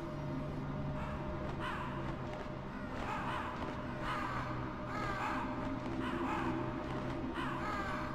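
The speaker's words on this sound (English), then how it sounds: "If you shoot these birds, don't you actually get, they get pissed off at you?" Crows cawing in the video game Metal Gear Solid, repeated harsh caws from several birds at moderate distance over a steady ambient drone and low hum.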